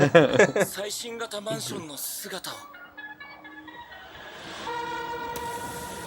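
A train in a commercial sounds its horn with a sustained, steady tone that follows louder music and effects, mid-distance and fairly loud.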